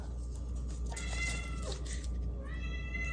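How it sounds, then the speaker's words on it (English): A cat meows a few times, drawn-out and plaintive, over a steady low background hum; the cries sound fairly close. "Oh my gosh, I can hear my cat."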